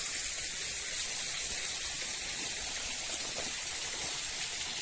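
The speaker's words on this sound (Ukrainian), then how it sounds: "і водопад, озеро, шум води, класно, повний релакс." Steady rushing water from a waterfall and stream at a countryside eco park beside a lake, a continuous broadband wash with a few small splashes, alone and fairly near.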